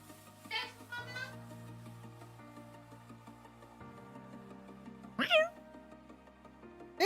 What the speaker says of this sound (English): Oh, the cat is going crazy.